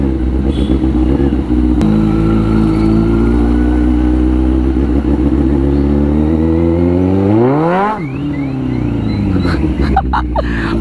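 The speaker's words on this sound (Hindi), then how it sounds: "वो कार आवाज करने लगा भाई।" A car's engine drones loud and close, then its pitch swoops up and drops sharply before settling into a rough, clattering idle.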